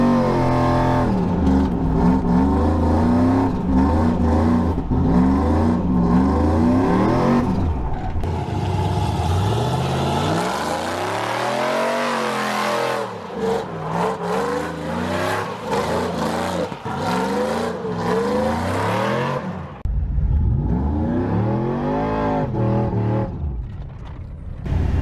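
A supercharged shop truck engine revs hard again and again, a loud close roar that rises and falls in repeated bursts and swells to a peak near the middle before settling into lower throttle surges.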